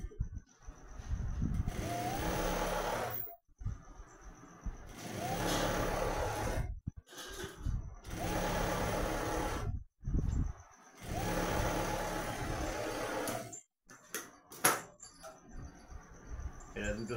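A sewing machine stitches a shirt's front placket in several bursts of whirring, each lasting a second or two, separated by short quiet pauses, close and fairly loud.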